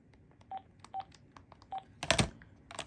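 AT&T CL83464 cordless handset dialing a voicemail number, a few short separated keypad tones followed by a brief louder burst, close and quiet with no talk.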